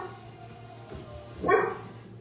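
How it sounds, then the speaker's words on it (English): A dog barks once, somewhat distant and muffled, a single short bark over a low household hum in a kitchen. "Someone's dog is pissed."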